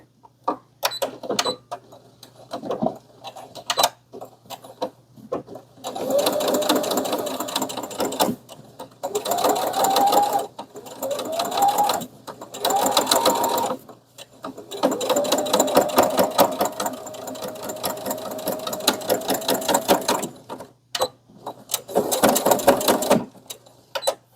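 A sewing machine stitching seams on a fabric bag, running in several bursts of rapid mechanical whirring and needle chatter separated by short pauses, close and fairly loud with no talking.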